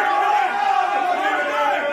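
A packed, musty room of spectators at an informal neighborhood boxing match roars steadily, a dense wall of overlapping shouts and cheers that stays loud and close throughout without letup.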